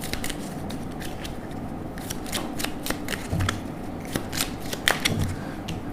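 Tarot cards shuffled by hand during a reading: continuous close riffling and flicking with crisp slaps of the deck, steady and fairly loud throughout, with no talk.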